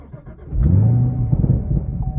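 A Camaro ZL1 1LE supercharged V8 cranks and fires up, then settles into a deep, loud, close rumbling idle with uneven low burbles.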